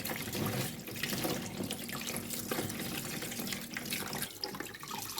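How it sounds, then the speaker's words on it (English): Tap water runs into a sink as ingredients for Ofe Owerri, a Nigerian soup, are rinsed, a steady splashing gush with some clattering of the items in the water. "Then I add in water and I'll rinse very well."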